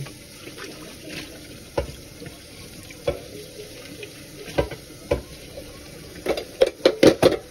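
Water runs from a faucet into a sink for rinsing, with soft splashing and intermittent clinks of dishes and utensils that grow busier near the end.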